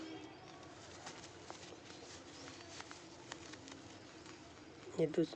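A domestic breeding pigeon coos faintly at close range over a constant noisy hum, ending with a couple of louder thumps near the end.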